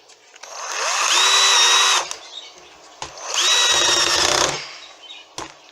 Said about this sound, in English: And then I'm going to get my screws in.